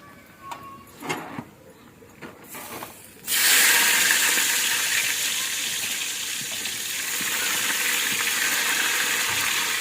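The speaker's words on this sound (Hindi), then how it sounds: "घी गर्म हो गया है आपका, धुआं निकाल रहा है।" Hot smoking ghee in a cooking pot bursts into a loud, steady sizzle after a few quiet clicks and knocks, the broad hiss holding on without letting up.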